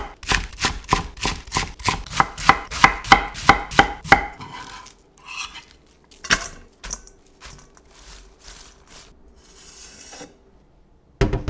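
Cabbage being cut into long thin strips with a knife, about 600 g of it: a quick, regular run of sharp chops on the board for about four seconds, then scattered, slower cuts and handling noises.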